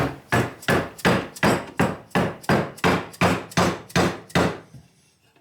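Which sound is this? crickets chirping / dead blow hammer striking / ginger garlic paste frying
dead blow hammer striking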